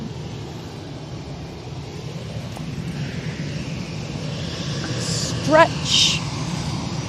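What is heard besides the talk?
EasyJet Airbus A319 airliner taxiing at Manchester Airport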